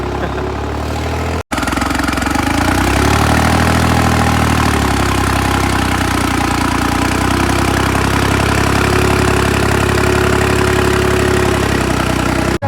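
A tractor engine runs steadily and loudly at idle, a continuous low rumble with a brief cut near the start, no voices. The tractor is a 3630 Special Edition.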